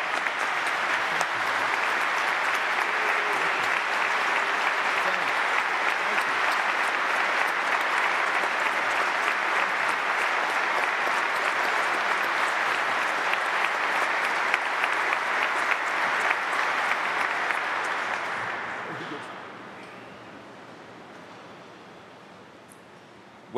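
A church congregation applauds its archbishop at a St. Patrick's Day Mass. The dense, loud, sustained clapping fills the space for about eighteen seconds, then fades out and leaves a quiet room.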